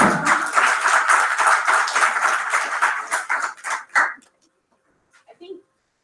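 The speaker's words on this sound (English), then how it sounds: "So give a big round of applause for the panelists." A panel-discussion audience applauds the panelists, a dense burst of clapping for about four seconds that thins into a few last claps and then near silence, with a brief voice or noise at the end.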